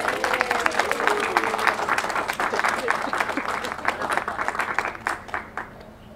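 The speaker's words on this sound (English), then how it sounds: "Round of applause for the ring." Wedding guests at a ceremony clap after the ring is placed, a lively burst of close, crisp hand claps with some voices underneath, tapering to scattered claps at the end.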